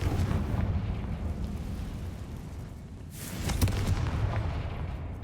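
A Confringo blasting spell explodes in Hogwarts Legacy, a sharp burst over a rumbling low background, then a fading boom.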